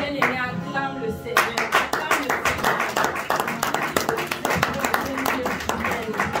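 A congregation claps in steady rhythmic unison during a worship praise night, loud and close, with music and singing voices running underneath throughout.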